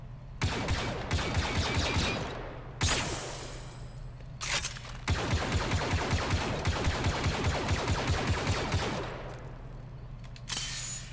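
Blaster gunfire in Star Wars Battlefront II during an Ewok Hunt match: rapid trains of bright repeating shots in long bursts with short pauses between, moderately loud over a steady background hum.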